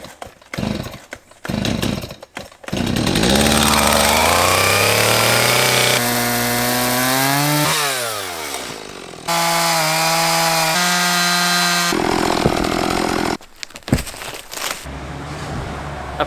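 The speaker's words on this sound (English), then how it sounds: "I think I might just chainsaw it" A chainsaw cutting through a fallen log blocking a 4x4 bush track revs up loudly, labours and drops in pitch as it bites into the wood, stops briefly, then restarts and runs at a steady high-pitched snarl before cutting off.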